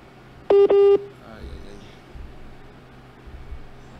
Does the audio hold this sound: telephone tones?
yes